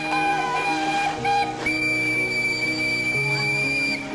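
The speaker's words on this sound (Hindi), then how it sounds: "ट्विन टोन विसल यानी बारी और पतली आवाज की 2 अलग अलग सीटियां लगाई गई थी।" A twin-tone locomotive whistle sounds its two pitches, one higher and one lower, in sustained blasts that shift and overlap over about four seconds, fairly loud and with no speech.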